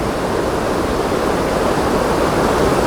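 A mountain river of blue water flows at low level, its rush a steady, even broadband wash with no other sounds.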